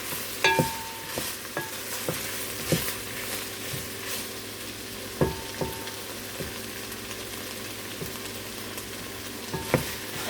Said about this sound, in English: We're just going to let the onion sweat a bit.